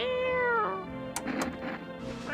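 A cat meowing in the video game Until Then, a few drawn-out, clear meows close up with little else around them.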